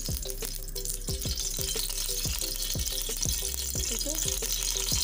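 Chopped onion sizzles in hot oil for a chicken kofta curry gravy, a steady fizz broken by regular scraping stirs about once a second, with a brief spoken remark.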